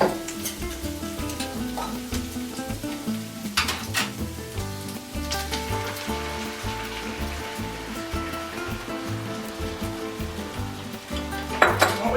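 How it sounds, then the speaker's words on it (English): Rice and tomatoes sizzle in a pan as they are stirred together, with continuous frying crackle, repeated utensil scrapes and occasional metallic clinks against the pan, close and fairly loud. "we want to stir everything together"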